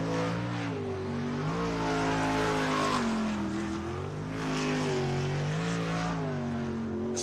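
A V8 superboat powered by a 583 cubic inch methanol-injected LS Chevrolet engine races at Cabarita, its loud engine rising and falling in pitch as it revs through the run, close and continuous.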